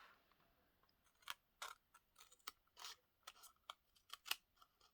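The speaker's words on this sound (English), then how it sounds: "I feel like I'm cutting the envelope" Scissors snip through a paper envelope in a string of crisp, close, quiet cuts, irregular and bunched toward the end, over a near-silent background.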